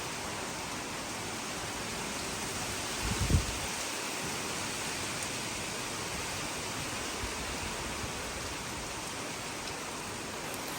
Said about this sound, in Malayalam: മഴ ഭയങ്കര കാറ്റും മഴയും കൂടെ അന്നേരം കയറി വന്നിട്ടുണ്ടായിരുന്നു അന്നേരം എടുത്തൊരു വീഡിയോ ആണിത്